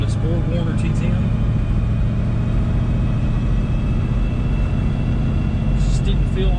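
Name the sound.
1979 Z28 Camaro with Borg Warner T-10 4-speed driving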